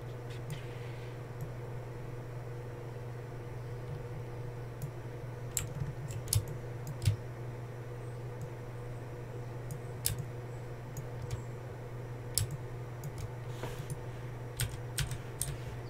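Computer keyboard keys are pressed in scattered, irregular taps and clicks, close and fairly crisp, over a steady low electrical hum with no talking.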